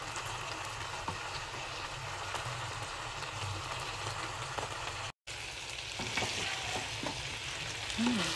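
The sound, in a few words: garlic frying in a pan for adobo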